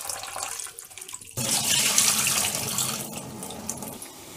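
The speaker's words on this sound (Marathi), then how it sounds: "आता ही कापं मी एकदा धुवून घेते आणि त्याच्यातली माती काढून घेते।" Slices of white suran (elephant foot yam) are rinsed in water to wash off soil, starting with faint handling, then a sudden steady rush of running water splashing into a sink close by.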